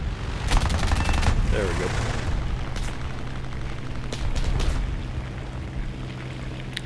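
Short bursts of machine-gun fire from a CR.32 fighter plane in War Thunder, cutting through loud, constant engine and wind roar, with a brief spoken remark near the start.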